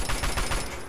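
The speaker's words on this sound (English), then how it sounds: "These guns are hilariously inaccurate." Rapid bursts of gunfire from weapons in the video game Fallout 3, a quick string of loud close shots lasting about a second with no talk.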